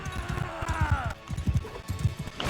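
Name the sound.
horse galloping in Mount and Blade II: Bannerlord video game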